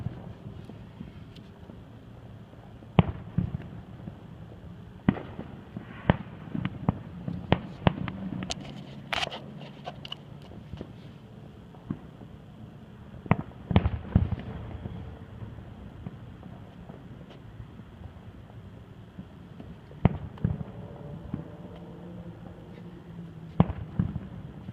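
Fourth of July fireworks going off at a distance, with scattered sharp bangs and crackles spread over a quiet outdoor night, and faint wind noise in between.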